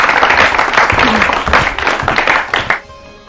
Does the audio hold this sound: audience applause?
yes